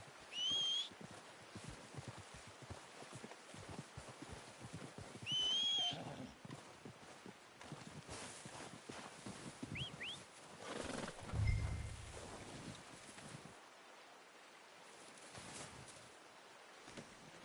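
Red Dead Redemption II horse whinnies twice in high, wavering calls over a steady bed of hoofbeats and wind, with a low snort or thump near the end.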